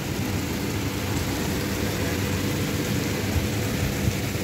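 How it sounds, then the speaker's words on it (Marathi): Heavy monsoon rain pours down in a steady, dense roar that holds evenly from start to finish, with no voices over it. "बारिश आई है फिर से आई है. आता जोरात आली आहे ना"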